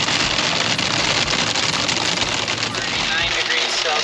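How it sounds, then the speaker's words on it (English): Heavy rain mixed with sizeable hailstones pounds down in a dense, continuous roar during wild weather as the temperature drops, loud and steady throughout with no pause. "It's all this rain, and we're getting mixed with hail, like pretty good chunks of it."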